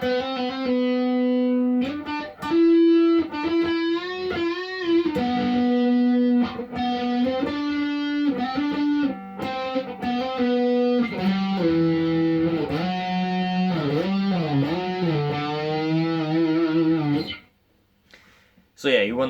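An electric guitar, with an effects unit adding a touch of distortion, plays the closing section of a song, a sustained melodic line with bends and slides, played close and clear before stopping.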